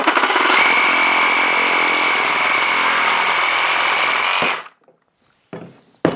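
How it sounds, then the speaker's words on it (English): A reciprocating saw cuts through PVC pipe with a loud, steady buzzing roar for about four and a half seconds, then stops abruptly, followed by a couple of short clunks. "So this is what I would normally use, is my reciprocating saw."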